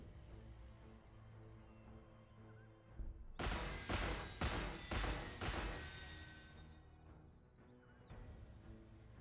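Gunfire in the video game Warhammer 40,000: Gladius – Relics of War, a loud volley of several rapid shots lasting a few seconds, rising abruptly out of quiet game ambience and fading back into it.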